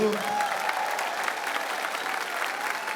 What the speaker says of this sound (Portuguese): uma salva de palmas para esse ministério maravilhoso